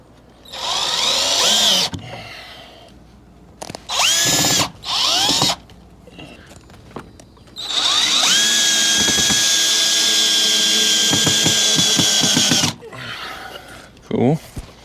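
A power drill drives screws into a board for a homemade shop door, with several short whirring bursts followed by one long sustained run, loud and close, with clicks and knocks between the bursts.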